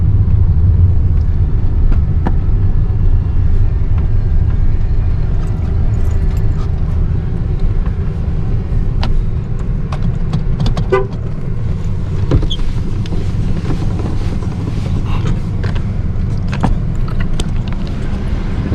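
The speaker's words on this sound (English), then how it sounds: "Let's see if they recognize this crazy ass car pulling up." An old Mazda car engine rumbles loudly and steadily as it rolls along, with occasional clicks and a brief toot-like sound partway through.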